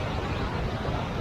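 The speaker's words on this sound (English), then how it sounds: "You can probably hear the running water in the background from the Housatonic River." The Housatonic River runs fast past Bull's Bridge in Connecticut, a steady broadband rush of water with no breaks, fairly loud and alone, with a faint wind-like wash.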